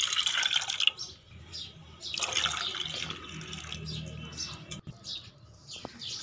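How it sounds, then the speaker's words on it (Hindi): Three cups of watermelon juice pour into a kadhai (wok), a steady liquid splash and trickle running for several seconds at moderate loudness, with a few high chirps in the background. "अब कढ़ाई में 3 कप तरबूज जूस के डाल देने हैं"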